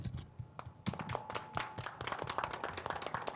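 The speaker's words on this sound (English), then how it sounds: "I'll ask our town council members to applaud the town." Scattered, uneven hand claps from a small group of town council members at an expo and conference, sharp individual claps quickening into a modest patter, fairly faint.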